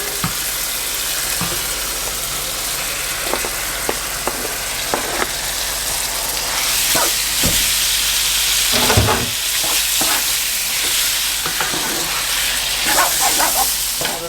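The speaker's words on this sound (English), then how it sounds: "So now I'm going to add my chicken and get that cooking." Chicken pieces frying in a pan with softened onions for a Thai coconut curry, a steady loud sizzle with occasional stirring scrapes and pops, no talking.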